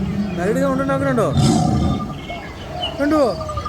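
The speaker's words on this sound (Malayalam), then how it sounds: "കരടി സൗണ്ട് ഉണ്ടാക്കുന്നുണ്ടോ?" A bear model at the Thrissur Pooram exhibition lets out two drawn-out, wavering growling roars separated by a short pause, fairly loud and close over a busy background.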